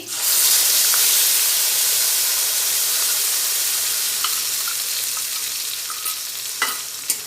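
Ground spice paste hits hot oil in a pan and sets off a loud, close sizzle. The hiss rises at once, then fades slowly, and a few light clicks of a spoon break in near the end.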